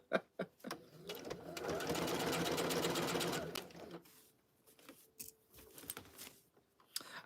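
A sewing machine stitches fabric in one steady, fast run lasting about three seconds, bracketed by a few sharp handling clicks and taps before and after.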